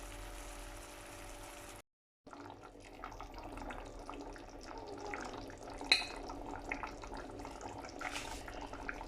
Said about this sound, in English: There you go guys, we put in a bit of water.